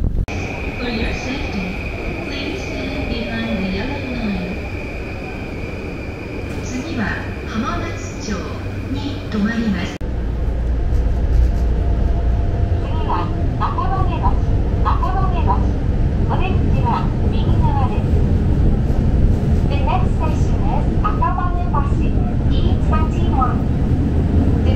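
A Tokyo train ride from the railway station, with a steady rumbling rail drone and a brief tonal whine early on, growing louder and heavier midway, with faint voices and chimes over the running noise.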